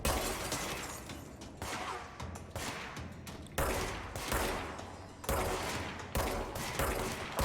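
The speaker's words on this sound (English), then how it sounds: "Wow, that was terrible shooting, but fortunately didn't matter." Dense, loud gunfire from the video game Control rattles in sustained bursts of rapid shots, with brief breaks and surges of sharp cracking impacts.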